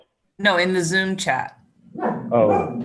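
A pet dog barks close by in a few quick, sharp yaps during an online video call, with people talking before and after.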